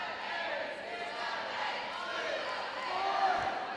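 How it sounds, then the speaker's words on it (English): An indoor wheelchair rugby crowd at a national championship game sends up a broad, sustained roar of cheering that swells slightly near the end, with a commentator's voice mixed in. "The crowd is going wild here."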